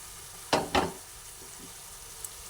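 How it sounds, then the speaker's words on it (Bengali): Fried okra being stirred together with spices in a pan: two quick scraping stir strokes up close, then a faint steady sizzle with a small clink near the end. "ঢেলে দেওয়ার পরে আবার ভালোভাবে আমি নাড়াচাড়া করে একসঙ্গে ভেন্ডি আর সব মশলা একসঙ্গে মিশিয়ে দিচ্ছি"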